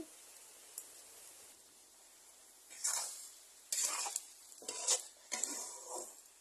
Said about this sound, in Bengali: এবার চিংড়ি মাছ দিয়ে চাল কুমড়াটা করে ফেলছি